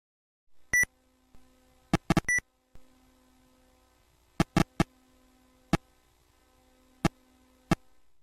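Simple electronic beeps and clicks from the 1978 Odyssey 2 console's basketball game: scattered bright bleeps, some doubled or in quick clusters, separated by near-silent gaps.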